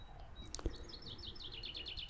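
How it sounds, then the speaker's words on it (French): Birds sing outdoors with quick, repeated high chirps and trills, fairly faint and close, after a couple of soft knocks, over a steady background hiss. "mais j'adore les écouter et siffler avec eux."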